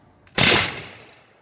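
A single loud musket shot at a Jamestown Settlement demonstration cracks sharply and then decays into a fading echo over about a second.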